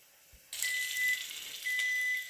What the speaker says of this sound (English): So the timer says that the quinoa is done.